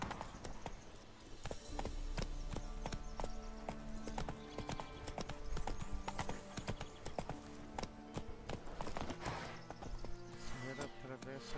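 Horse hooves galloping in the video game The Witcher 3, a quick steady clip-clop rhythm running throughout alongside game music and ambience.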